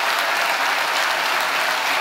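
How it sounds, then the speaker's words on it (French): An audience at a mayor's New Year ceremony applauds the firefighters present, a dense, steady clapping from a full room. "On peut les applaudir"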